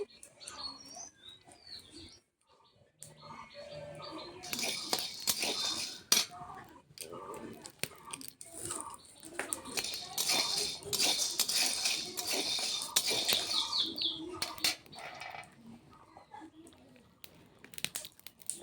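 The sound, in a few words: dry roasting chickpeas in a pan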